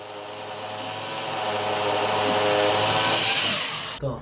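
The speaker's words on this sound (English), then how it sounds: "My walls are concrete, that's why I am using hammer drills for the holes." A hammer drill bores holes into a concrete wall, one continuous loud grinding whine that builds steadily for about four seconds before cutting off abruptly.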